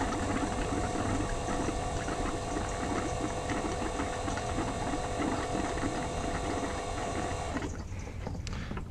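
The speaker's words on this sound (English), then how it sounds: "the last little bit is just kind of sputtering like that." Diesel fuel sputtering and foaming from a dual-port fuel sump on a 2001 second-generation Dodge Cummins, heard as a steady close mechanical whir with crackling spurts that thin out near the end.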